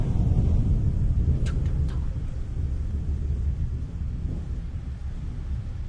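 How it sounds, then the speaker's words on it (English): Real thunder in Florida rolls as a deep, sustained rumble that starts strongest and slowly fades over about six seconds, with faint rain-like hiss beneath and no voices. "that was like real thunder while he was recording that"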